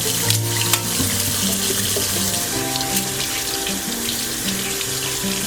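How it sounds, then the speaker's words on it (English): Warm water pours steadily from a tap in a continuous, close-up rush, with no voices over it. "I'm gonna start off with just running warm water."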